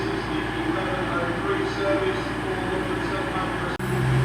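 Class 222 unit 222-013 pulling out of Leicester station on a delayed service to London St Pancras, a steady low engine rumble and rolling hum that continues throughout, with a brief drop near the end and people talking over it.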